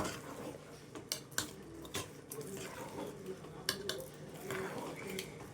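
Ragi flour and broken rice grains stirred together in a pot over medium heat, with irregular clinks and scrapes of a utensil against the pot and soft thick squishes, the strokes close and uneven.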